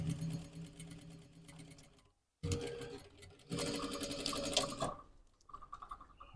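Sewing machine topstitching the pocket entry of a fleece hoodie, a steady close mechanical whirr that runs, stops briefly into silence, then resumes in bursts.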